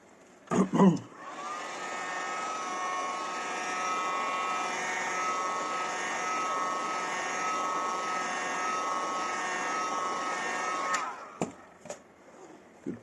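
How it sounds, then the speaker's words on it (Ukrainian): A hair dryer heating a shoe sole blows with a steady, loud whine for about ten seconds, preceded and followed by brief handling clatter. "нагреваю феном."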